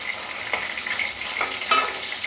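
Hilsa fish pieces fry in a pan with a steady hiss, broken by a few sharp crackles and spatters over a couple of seconds.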